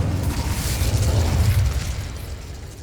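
A fire spell cast in a fantasy video game erupts in a loud, booming whoosh of flame that swells and then slowly fades, with no voices over it.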